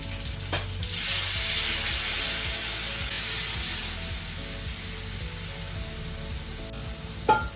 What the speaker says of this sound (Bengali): এবারে এই দইটা মিশিয়ে দিচ্ছি